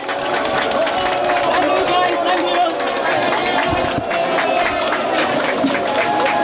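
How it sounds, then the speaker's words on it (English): A crowd at a public relief event at Caldwell Bridge claps steadily and dense, with voices and chatter mixed into the sustained noise throughout. "Join me, let's clap for the Chico worker."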